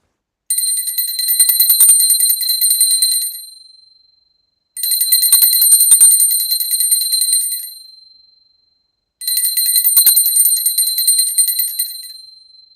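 A bright metal ritual bell rings three times during a puja, each ring sustained for about three seconds and fading out, with silent pauses between strikes.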